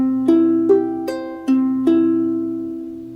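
Ukulele picked fingerstyle from tablature, five plucked notes in a slow even rhythm with each one ringing out, clear and close, with no voice.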